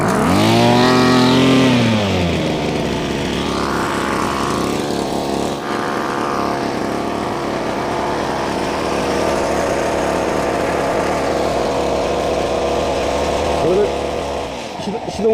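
A small two-stroke brush cutter engine revs briefly, then drops back to a steady running drone close by for more than ten seconds, with someone talking over it before the engine cuts out near the end.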